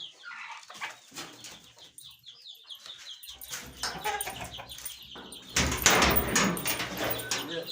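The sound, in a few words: door being opened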